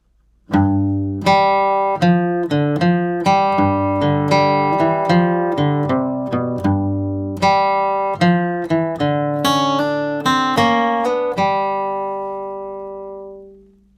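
A flatpicked acoustic guitar plays a lively run of clear picked notes, steady and close, with bright attacks and a final note left ringing out.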